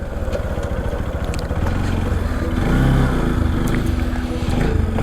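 A motorcycle engine runs with a steady, close, rumbling drone, swelling slightly louder midway and holding on without pause.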